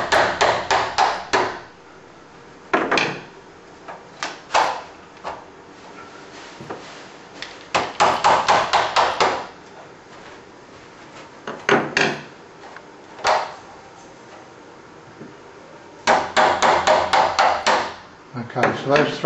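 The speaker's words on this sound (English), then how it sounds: "Sometimes we need tapping with a hammer." A hammer taps the head rail of a wooden Venetian blind into its brackets, delivering clusters of rapid sharp knocks separated by pauses, with some talking between bursts.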